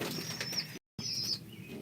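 Baby pigeons squeaking inside a bucket used as a nest, high thin squeaks repeating close by over a low rustling background, cut by a brief silent gap.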